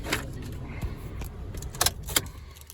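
Mazda 2 car keys with folding remote fobs jangle in short, quiet metallic clinks, a couple of sharper rattles standing out near the end against a soft background.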